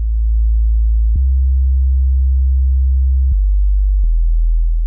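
A deep sub bass synth plays a slow progression of pure, sine-like tones in the 40 to 80 Hz range, shifting pitch three times over about five seconds, steady and loud with nothing else playing.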